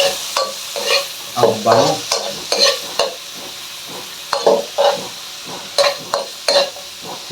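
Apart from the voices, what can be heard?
sautéing garlic, onion and ginger for monggo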